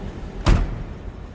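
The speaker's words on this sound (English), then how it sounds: "Door closes nicely." A door on a 1956 Lincoln Mk II Capri hardtop coupe shuts with a single solid, close thud amid quiet surroundings.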